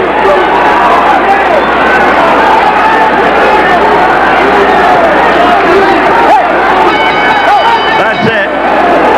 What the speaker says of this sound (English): The crowd continues to boo the referee